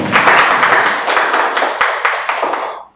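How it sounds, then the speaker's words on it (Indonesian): Loud, close audience clapping at a village disaster risk reduction forum gathering, a dense steady round of applause that carries on for about three seconds, then cuts off. "Tepuk tangan dulu buat FPRD Pak Lurah"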